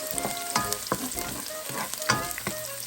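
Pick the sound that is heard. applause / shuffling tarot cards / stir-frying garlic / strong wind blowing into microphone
stir-frying garlic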